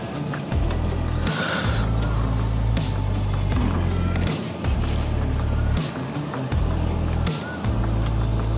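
A Hyundai Elite i20 with a manual gearbox is driven slowly, its low engine note rising and falling in repeated surges with faint bumps and clicks, close and without talk.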